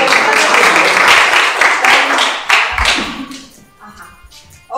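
Applause from an audience at a university fencing exhibition, a dense burst of clapping that fills the first seconds loudly and then thins and fades out.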